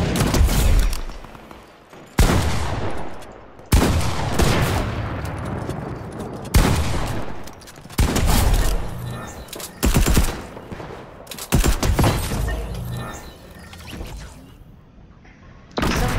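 Fortnite gunfire on Mars erupts in loud, dense bursts of automatic shooting separated by short pauses, harsh and close, with occasional heavy booms and no talk.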